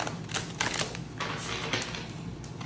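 Tarot cards being shuffled in rapid bursts of crisp, papery riffling and tapping, close and fairly steady across the whole stretch, with no talking over it.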